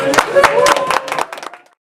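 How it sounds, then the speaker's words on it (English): Applause after a newscast segment congratulates a woman, a round of scattered claps that thins out over about a second and a half before fading to silence, with some voices underneath. "We should do one more round of applause for her."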